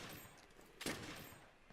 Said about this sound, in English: Now you see, just fire with one shot.